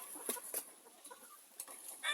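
Young chickens and roosters give several short, scattered clucks over quiet coop ambience, soft and close, with a few louder bursts between pauses.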